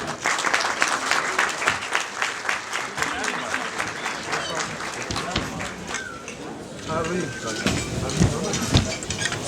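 An audience applauds at a municipal Medicine Day iftar event held by Zeytinburnu Municipality for health workers, dense continuous clapping from a large crowd filling the hall, with some voices mixed in.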